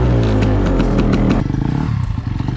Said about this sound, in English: Let's see if the bike's gonna start.